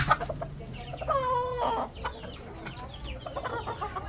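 Chickens squabble on a poultry farm, a burst of agitated clucking and squawking that rises, peaks, then trails into scattered nearby clucks.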